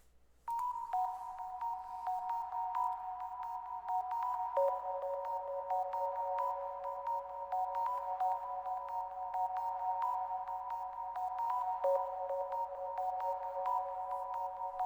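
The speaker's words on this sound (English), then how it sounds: "the sort of pluck beep sound going on" A simple synth pluck melody in a diaryplugg beat, with bright, beeping tones playing steadily, notes repeating and stepping between a few pitches with a soft reverb tail.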